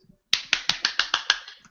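Hands clap in a quick, even burst of about eight sharp, close claps, with a faint murmur just before.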